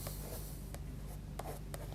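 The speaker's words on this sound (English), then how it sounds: "I'm going to add in a few darker marks and then again use the white" A Derwent Artbar crayon scratches darker marks onto paper, several short, crisp strokes standing out clearly against a quiet room background.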